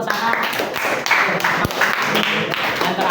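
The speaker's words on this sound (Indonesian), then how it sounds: "Tepuk tangan dulu buat Sarah" A school class claps for a classmate, a steady patter of hands with voices talking and calling out over it throughout.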